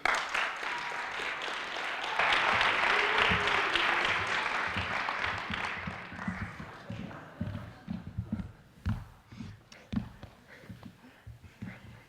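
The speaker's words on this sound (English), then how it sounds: "Give a big round of applause for Zane Yarbrough and Josh Christensen" A convocation audience applauds at Snow College, the clapping swelling loud and dense for several seconds, then thinning into scattered claps and low voices as it fades.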